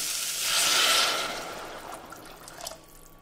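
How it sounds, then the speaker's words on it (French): One litre of water poured into a cooking pot for a pea soup, a close, steady gushing splash that swells, then thins to a lighter trickle and drips at the end. "On rajoute 1 litre d'eau."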